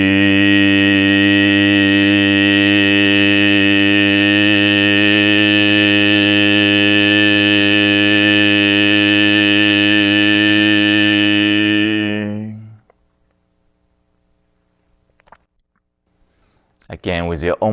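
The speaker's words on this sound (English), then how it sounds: "with the second sound, Yu sound, and the sound like this." A long sustained chanted Yu tone from a healing breathing exercise holds steady and loud for about twelve seconds, rich in overtones, then stops, leaving near silence before a brief noise at the end.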